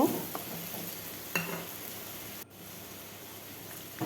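Dried fish frying in oil in a pan: a faint, steady sizzle with a couple of brief stirring scrapes, heard alone without voices.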